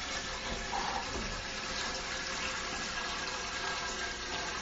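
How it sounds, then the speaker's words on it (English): Water being poured into an enamel brew pot for homebrewing IPA, a steady close-up rushing and splashing stream that keeps going throughout, with no talking. "1/4 gallons of water in our brew pot. And shall I pour?"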